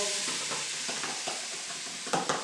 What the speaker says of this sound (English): Me just make a stir.